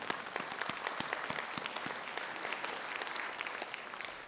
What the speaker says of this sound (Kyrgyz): бир кол чаап коелу